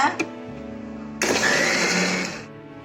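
An electric mixer whirs on abruptly and churns milk cream into butter with a loud, close, steady grinding whine that fades after about a second, following a few brief knocks and a short burst of speech.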